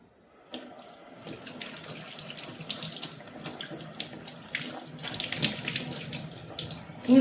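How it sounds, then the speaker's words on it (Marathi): Cloth with stains is washed under a running tap, giving a steady splashing gush of water that starts after a short silence and continues with fluctuating intensity close by. "आता हे डाग आपण धुवून बघू हे निघतात की नाही."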